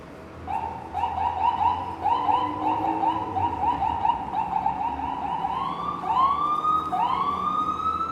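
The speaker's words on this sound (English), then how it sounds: "There sure are a lot of ambulance sirens going around the city." Ambulance sirens on a Midtown Manhattan street in New York, wailing and yelping steadily for several seconds over city traffic noise, with no speech.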